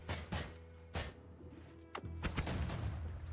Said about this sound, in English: each of those explosions did like 170 damage